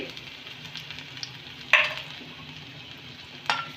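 Finely chopped garlic cloves fry quietly in a pan over low heat, a soft steady sizzle punctuated by two sharp scrapes of a utensil stirring against the pan.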